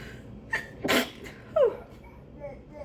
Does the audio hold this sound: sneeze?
yes